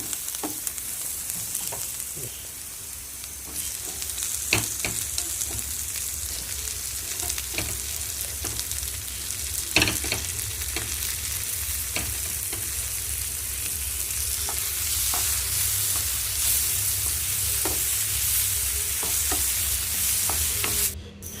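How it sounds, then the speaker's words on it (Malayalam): A paneer butter masala base of cumin and salt sautéed in a pan, a long steady sizzle with occasional spoon taps and scrapes, growing somewhat brighter and louder toward the end, with no voices. "ഉപ്പ് ചേർത്തിട്ട് നല്ലപോലെ വഴറ്റി റെഡിയാക്കി എടുക്കണം."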